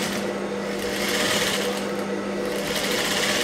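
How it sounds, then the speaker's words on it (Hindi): A sewing machine runs steadily and continuously at close range while double-stitching piping on a blouse, with a dense, even mechanical whir throughout. "और यहाँ पे हम दोरा चेंज कर लेते हैं, डबल सिलाई मार लेते हैं।"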